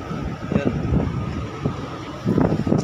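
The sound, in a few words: strong wind at People's Park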